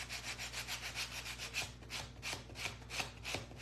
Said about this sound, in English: I'm going to sand these just a little bit.